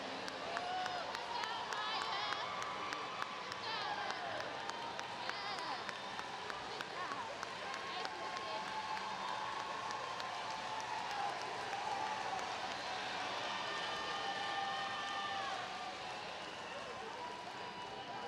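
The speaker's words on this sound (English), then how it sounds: "Let's give a hand of applause to these graduates" Applause and cheering from a crowd greet graduates at a Woodward High School graduation ceremony, a steady wash of clapping that holds for most of the stretch and then eases slightly near the end.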